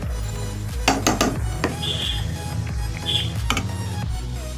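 Chushi pitha stirred into milk in a pot, with a few clinking spoon-on-metal knocks and scrapes over a steady low background hum, close and moderately loud.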